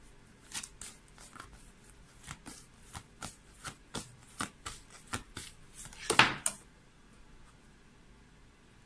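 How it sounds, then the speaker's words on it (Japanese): Oracle advice cards are shuffled in a steady run of crisp, flicking bursts, close and clear, finishing with one louder slap or snap of cards near the end; no voice is heard. "アドバイスカードを引いていきたいと思います"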